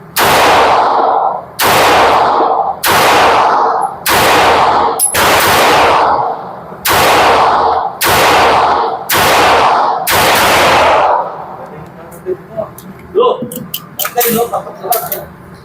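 A 9mm Beretta PX4 Storm pistol fires nine loud, sharp shots at roughly one-second intervals, each with a long echoing tail, followed by faint clicks and handling noises.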